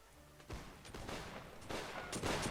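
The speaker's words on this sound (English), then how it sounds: "And the firefight commences." Musket volley fire in a video game battle between the 32nd and American militia, with a burst of overlapping shots and a fresh crackle of fire after about two seconds, moderately distant and fairly quiet.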